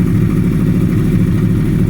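A Yamaha R1 sport motorcycle engine runs loud and close, a dense low throbbing roar holding fairly steady over a short stretch with slight swells, with no voices.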